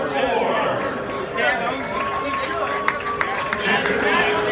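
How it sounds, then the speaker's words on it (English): A large crowd at the Indianapolis 500 cheers for Helio Castroneves, a dense, steady roar of voices and claps with occasional sharper whoops, close and continuous over a busy racetrack ambience. "Let's give him a cheer on lap number 4."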